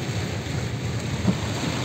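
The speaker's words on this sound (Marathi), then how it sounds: "हा एवढा मोठा धाराशिवचा पूल आणि पाऊस, जोरदार पाऊस पडतो आहे" Heavy rain pours onto the large Dharashiv bridge in Marathwada, a dense, continuous hiss that stays steady throughout with no voices.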